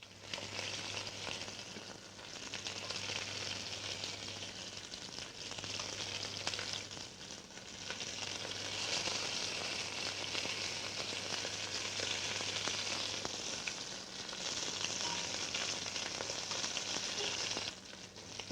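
Diced celery root and onion sautéing in a pan, a steady, even hiss and sizzle with light crackling that continues without a break, no voices.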